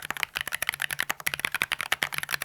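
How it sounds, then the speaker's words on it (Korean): Rapid, steady typing on a split ergonomic mechanical keyboard: dense, close, crisp key clacks in an irregular flurry of strokes with no pauses, heard on their own without speech. "키감은 무난무난하게 도각도각거리는 키감입니다."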